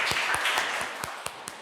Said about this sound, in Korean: 박수하면서 환영했으면 좋겠습니다.